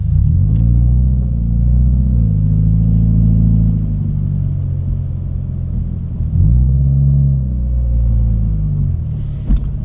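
Subaru FRS being driven, heard from inside the car: a steady, loud low engine rumble that rises, eases off and builds again, with no talking.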